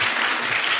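Audience applause fills a lecture hall, a dense steady clapping that holds at full strength through the whole short moment with no voices over it.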